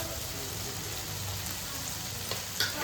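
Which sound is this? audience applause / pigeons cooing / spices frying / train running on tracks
spices frying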